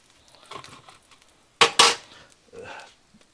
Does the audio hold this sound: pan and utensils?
yes